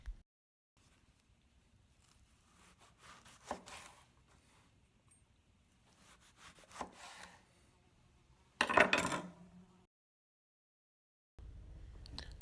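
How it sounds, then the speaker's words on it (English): A spoon scrapes seeds out of a ripe melon in a few quiet, short scooping rasps separated by silence, with one louder scrape near the end. "Scoop out the seeds."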